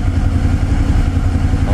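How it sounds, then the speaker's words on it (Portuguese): A motorcycle engine running at a steady idle just after an oil change with Motul 7100 fully synthetic oil, with the bike up on its center stand; close, loud and continuous, with a mechanical clatter and no talk. "liguei a moto aqui."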